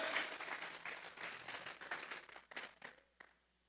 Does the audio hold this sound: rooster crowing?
no